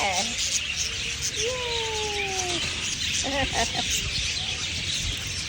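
Small birds chirp and call in a feeding area at the Rajali bird park, with sharp whistled tweets and a brief burst of rapid notes over a constant, busy outdoor background while people talk nearby.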